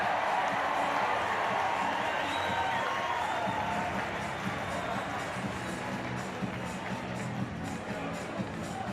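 A huge home crowd roars and cheers across a stadium at a women's rugby sevens final, a broad, sustained wash of noise that stays steady throughout, with scattered applause rising from the stands.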